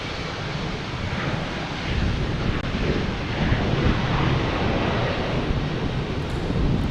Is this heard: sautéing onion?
no